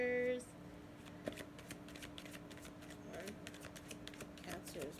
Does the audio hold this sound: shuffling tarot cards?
yes